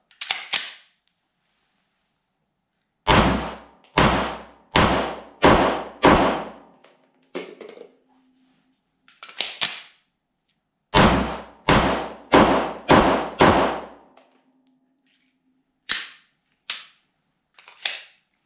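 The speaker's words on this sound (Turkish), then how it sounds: "İki şarjör atış yapalım böyle beşer taneden." A Derya Arms DY9 firing two magazines of five rounds each: sharp, loud close shots in two rapid bursts of about five, separated by a pause with mechanical clicks, followed by a few more scattered shots.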